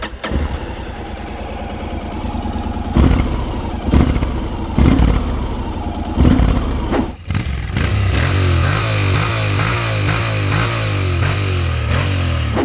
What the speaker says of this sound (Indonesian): Dia punya suara mesin yang ngebass dan mirip dengan mesin berkonfigurasi V-twin.